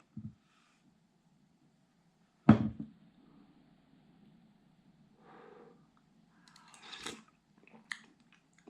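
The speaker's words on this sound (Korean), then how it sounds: "대구 지리탕 진짜 오랜만에 먹어보네 자 먼저 먹어볼게요" Someone eats Korean cod jiri, a clear fish soup, with a sharp close bite or slurp near the start, then quiet intermittent chewing and small mouth and utensil sounds over a low background hum.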